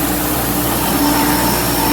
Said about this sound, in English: let's fire up the old grinder